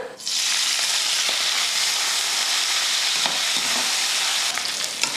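Cleaned dried fish (karuvadu) frying lightly in a pan, a loud, steady sizzle that stays even throughout, with a few faint clinks of stirring partway through.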